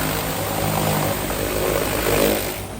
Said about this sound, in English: after he's done pressure washing that engine bay